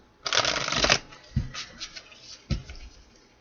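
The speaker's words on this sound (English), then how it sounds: "let's do 2 more shuffles here" Tarot cards being shuffled by hand, a close riffling burst followed by a few softer taps and shuffles as the deck settles.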